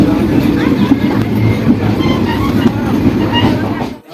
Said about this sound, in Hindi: तो ट्रेन हमारी अराइवल हो रही है सकरी जंक्शन